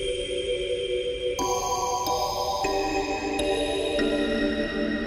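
A synthesizer bell patch rings in sustained, layered tones, stepping through several bright struck-bell pitches that overlap and sustain with a washy reverb tail, loud and steady with no voices.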